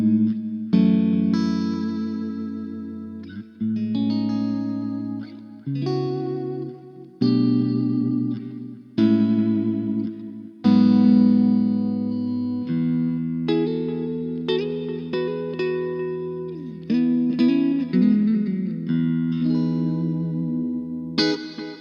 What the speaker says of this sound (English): we have a combination of the delay and reverb together